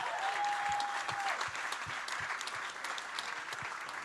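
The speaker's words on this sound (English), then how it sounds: "Can we give them a round of applause," An audience at a national grand final event applauds its partners with steady, even clapping that fills the whole stretch at moderate volume, with a brief thin tone over the first second and no speech on top.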